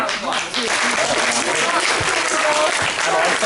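An audience claps steadily and densely at an improv comedy show, a loud, continuous wash of applause that fills the whole stretch.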